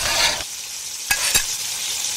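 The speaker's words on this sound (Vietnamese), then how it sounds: "Bật bếp lên rồi chiên cho chín đều." Minced beef patty frying in a pan for a miniature smash burger, a steady close sizzle with a couple of sharp clicks or taps partway through and no speech.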